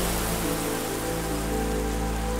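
Steady rain falls on a surface outdoors, a continuous dense hiss of drops with no voices, even and moderately loud throughout.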